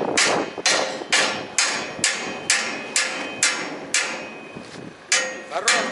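Steady, ringing hammer blows on metal, about a dozen strikes at a regular pace, close and loud, with a brief quicker pair near the end.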